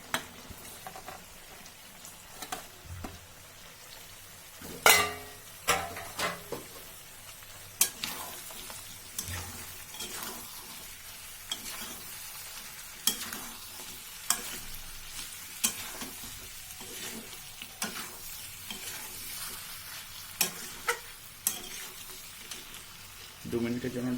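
Onions, green chillies and capsicum fry in a kadai with a soft continuous sizzle, broken by frequent scraping and clacking strokes of a spatula stirring the pan, close by.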